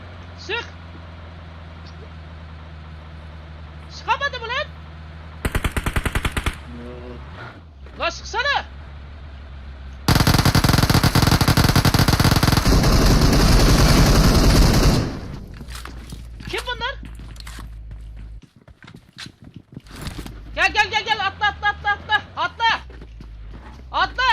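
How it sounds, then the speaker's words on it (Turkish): Gunfire in an online video game comes as several bursts of shots, including a long loud sustained volley, mixed with game noises while players talk excitedly between them. "Beş tane mermi var lan sıkayım"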